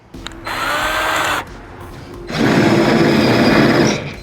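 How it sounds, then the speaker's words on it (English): A power drill with a drill bit bores through the floor of a Chevrolet Nova in two close, loud whirring bursts, the first about a second long and the second longer and heavier as the bit bites metal. "next bigger size drill bit"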